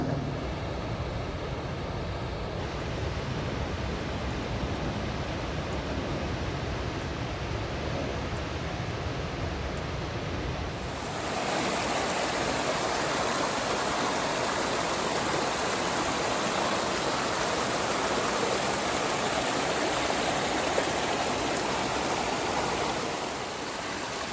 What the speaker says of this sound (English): There's Nugget Falls. It's beautiful as can be.